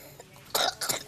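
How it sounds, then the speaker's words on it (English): A young girl in a hospital gives two short, harsh coughs close by, bringing up sputum from her lungs, following a faint throat clear, with a brief third burst at the end. "hopefully, she'll cough up."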